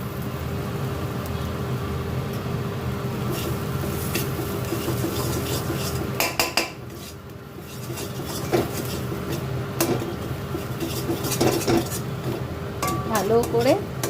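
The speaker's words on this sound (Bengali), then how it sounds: "পেস্ট করে রাখা সমস্ত উপকরণগুলোই আমি কড়াইতে নাড়ব" Ground spice paste being stirred in a kadai, with a metal spoon scraping and clinking against the pan in repeated rubbing strokes, moderately close, with a pause midway and brief knocks near the end.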